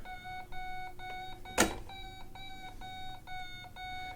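Steady electronic beeping tone from an RC transmitter's altitude alarm as a Volantex Phoenix 2400 glider model is raised and lowered, repeating in regular pulses with shifting pitch and a brief rustling handling noise midway.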